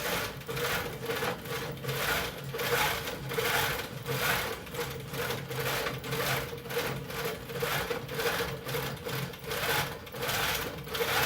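A computer-guided longarm quilting machine stitches through three layers of fabric on a round Christmas tree skirt, giving a steady rapid mechanical chatter that pulses in regular bursts, close and loud, with no one talking.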